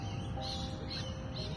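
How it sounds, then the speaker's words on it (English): Birds chirp and call outdoors in botanical gardens, a few short bright tweets repeating over a low steady background hum, moderately close, with no talking. "Oh, I love the sound of birds so much."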